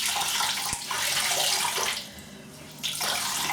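Tap water runs steadily into a bathroom sink while the face is wetted before a wet shave. The rush is close and continuous, dips briefly, then swells again, with no talking.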